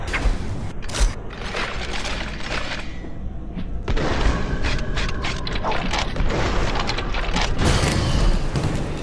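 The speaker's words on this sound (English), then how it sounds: "Shotguns." Shotgun blasts ring out in the VR game Hellsweeper VR, with repeated sharp bangs amid dense, noisy combat clatter and mechanical clicks, loud and continuous throughout.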